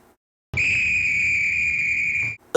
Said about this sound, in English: Oops, that's the conductor's whistle.